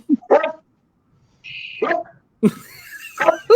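A dog barks in a home during a casual online happy-hour call, giving a few sharp close barks in separate bursts with pauses between them.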